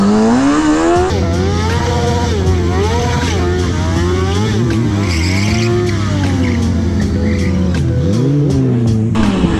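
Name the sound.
car engine revving while driving in circles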